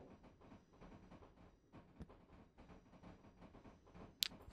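A train rolls into a station in the SimRail train simulator, a steady low rumble and rattle of wagons running under a faint hiss, with a brief sharp click near the end.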